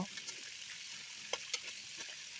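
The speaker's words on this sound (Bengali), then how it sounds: "এই তো আবারও ভাজার জন্য রোস্ট দিয়ে দিলাম" A roast fries in a pan, giving a steady, quiet sizzling hiss with a couple of brief sharper pops partway through. No one speaks.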